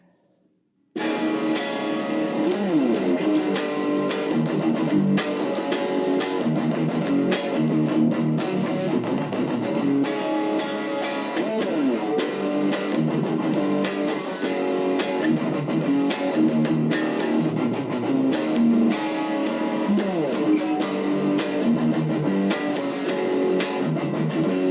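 Electric guitar on the neck pickup plays the rhythm-heavy outro of a song, a steady, dense stream of strummed and picked notes continuing unbroken for over twenty seconds without talk.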